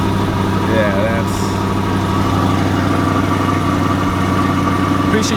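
Close and loud, a 6.2-liter naturally aspirated V8 car engine of 495 horsepower idles with a constant deep, throbbing rumble, and faint voices may sit beneath it.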